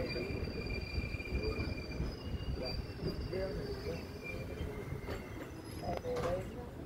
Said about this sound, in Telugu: మనం దోన్ జంక్షన్ని డిపార్ట్ అవుతున్నాము